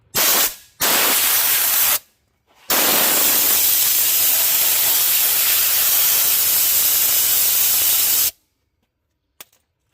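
Compressed air gun blowing off a car frame rail on a 1993 right-hand-drive Honda del Sol build: loud, steady hissing blasts, two short bursts followed by a long continuous spray, then abrupt silence.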